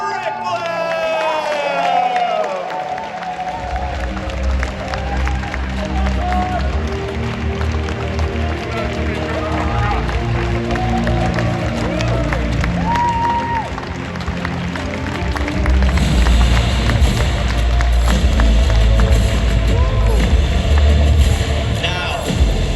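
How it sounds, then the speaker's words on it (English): Crowd applause and cheering for the trading card game Masters Division champion at a Pokémon European championship finals, a sustained wall of clapping and whoops that swells louder near the end, with a voice speaking over it early on. "a big round of applause for our trading card game Masters Division champion, Tord Reckless"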